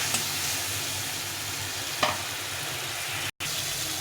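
Spices sauté in a pan with a little water added, giving a steady, even sizzle that runs throughout with a single brief clink partway and a momentary cut near the end, no voices present.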